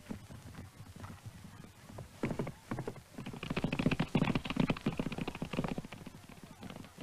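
Horses galloping in a race in old Nepal's Dolpo region, a rapid drumming of hooves building louder in the middle and then easing off, with a faint voice underneath.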